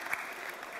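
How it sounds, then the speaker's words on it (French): Conference audience clapping at a French business gathering, a steady dense patter of many hands filling the short moment without voices. "ils méritent d'être applaudis et encouragés"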